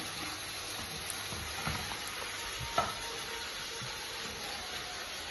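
Chicken for fried rice frying in a pan gives off a steady, even sizzle throughout, with a few faint utensil knocks partway through.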